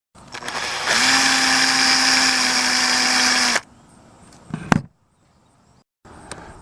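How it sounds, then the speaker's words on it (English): A small drill bores a 1/8-inch or smaller hole into a bullet casing where the primer sat, a loud steady whine lasting about two and a half seconds before cutting off, followed by a brief clatter. "I'm going to drill probably like a 1/8 or smaller hole right where the primer and the shell used to be."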